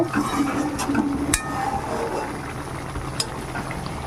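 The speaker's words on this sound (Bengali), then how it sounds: "দেখুন কত সুন্দর টকবক করে ফুটছে" A pot of khoira fish curry boils on the stove, giving a soft steady bubbling and simmering with a couple of brief clinks from the pot, close and moderately quiet with no talking.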